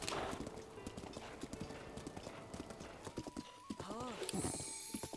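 A horse in Breath of the Wild gallops with steady rapid hoofbeats, then whinnies near the end, under a person talking throughout.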